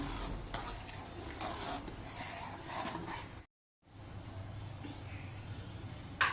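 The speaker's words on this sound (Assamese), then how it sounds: "এতিয়া অলপ লৰাই থাকিম, আৰু তাৰপিছত মই বন্ধ কৰি দিম।" Payesh, a rice pudding, is stirred in a pot on the stove, with soft scraping and a faint simmering sizzle that continues close and steady, broken by one brief silent gap.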